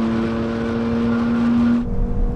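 Tuned BMW M3 Touring F81 with a Stage 2 tune and 550 horsepower accelerating hard, a loud steady engine drone with rising whine, heard from inside the car, then easing off abruptly near the end.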